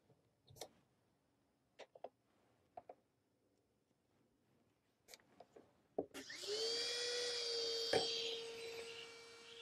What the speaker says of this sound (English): So we're going to trim this portion now. I'm going to use my red acrylic stone trimmers.